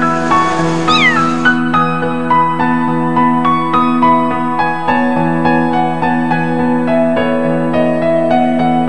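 A cat gives a loud, close meow with a rising-and-falling pitch near the start, heard over steady melodic background music that continues alone afterward.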